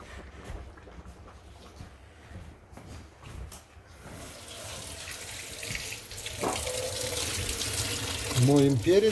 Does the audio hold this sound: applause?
no